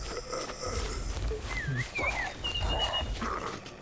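Dogs in a zombie survival video game bark and whine amid a noisy, shifting game soundscape, several short yelps and whimpers over about four seconds, moderately loud.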